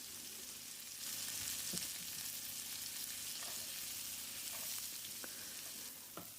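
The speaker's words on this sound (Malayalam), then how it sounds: "ബട്ടർ ഒന്ന് ചൂടായി കഴിഞ്ഞാൽ നമുക്കിതിന് ക്യൂബ്സായിട്ട് അരിഞ്ഞു വെച്ചേക്കുന്ന സവാള ചേർക്കാം" Diced onions fry in melted butter in a pan, a soft hissing sizzle that swells after a moment and holds steady, with occasional light taps of a spoon.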